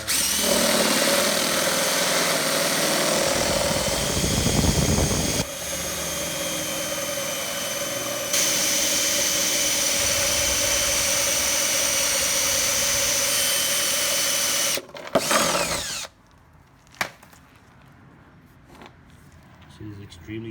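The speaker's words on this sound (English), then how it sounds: "I'm gonna use this Home Depot drill bit to drill it out." A power drill with a Home Depot bit grinds into a stuck intake manifold bolt on a 2005 C6 Corvette, a loud sustained whine for about fifteen seconds before stopping, followed by quieter clicks.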